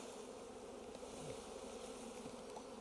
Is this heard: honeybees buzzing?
yes